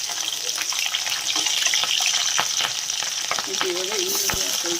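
Green chillies frying in hot oil, a steady close sizzle with scattered pops and crackles and occasional stirring scrapes, loud and continuous without talk.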